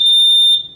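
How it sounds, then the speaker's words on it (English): The opening alarm on a fire station baby box sounds a steady high-pitched electronic tone, loud and unbroken for over half a second before cutting off, with no voices. "a house alarm is triggered"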